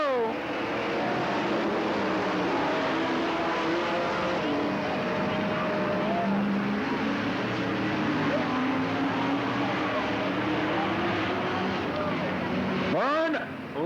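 Race cars at Cottage Grove Speedway restarting after a yellow flag, engines droning and revving steadily throughout, with a car sweeping past near the end, under continuous announcer commentary.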